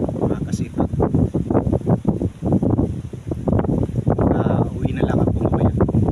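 Strong wind buffets the microphone aboard a small fishing boat at sea, with rough waves sloshing in a steady, loud roar while someone speaks over it.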